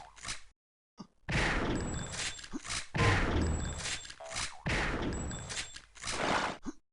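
Instagib weapon shots fire in a competitive Unreal Tournament-style instagib grand final, coming in sharp bursts close to the listener over a busy game mix, with short gaps between volleys.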